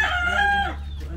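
A single native chicken laying eggs calls out close by, a drawn-out, rising and falling crow-like cluck over a low steady hum, on a farm in Davao.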